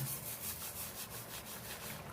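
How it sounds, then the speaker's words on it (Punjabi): Dried fenugreek leaves, first roasted on a griddle, are rubbed and crushed between the hands, producing a faint, brief dry rustling close by. "ਇਹਨੂੰ ਹੱਥਾਂ ਦੇ ਨਾਲ ਮਸਲ ਕੇ ਪਾ ਲਈਏ"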